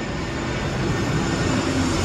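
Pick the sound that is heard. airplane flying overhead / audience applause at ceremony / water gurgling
airplane flying overhead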